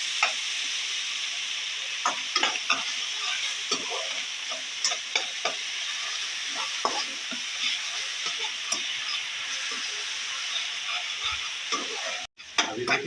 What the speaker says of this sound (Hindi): इसके अंदर हम सबसे पहले प्याज को ऐड करेंगे,